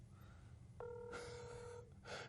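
A telephone ringback tone sounds once while a call is being placed, a steady electronic purr lasting about a second, fairly clear over a quiet background.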